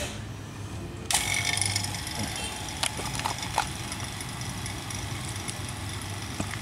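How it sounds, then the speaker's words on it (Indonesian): A small vacuum pump for a DIY resin vacuum chamber switches on abruptly after a quiet start and keeps up a steady mechanical whir, with a few sharp clicks and knocks along the way. "kita hidupin pompa vakum ya"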